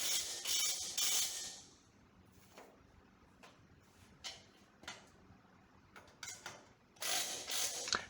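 Nylock nuts are tightened on a rotisserie welding table, with close, quiet ratcheting clicks and metallic taps spread through the clip and louder sharp rattles at the start and end.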